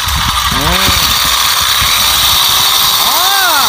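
A chainsaw engine rigged onto a fishing rod as a homemade chainsaw rod runs loud and steady up close throughout, with brief voices over the constant roar.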